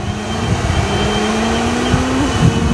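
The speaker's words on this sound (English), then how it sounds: "It sounds like a motorbike going by" An X-Class monster drone flies nearby, its motors giving a steady loud buzzing whine that rises slightly in pitch like a motorbike passing, continuous throughout with no talk.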